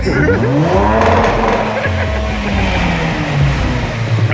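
Loud car engine revving on two-step launch control with rapid sputtering pops, held at high revs, alongside shouting voices and crowd chatter nearby.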